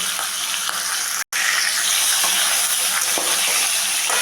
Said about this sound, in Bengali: প্রথমে আমি মাছের মুড়োটাকে ভেজে নেব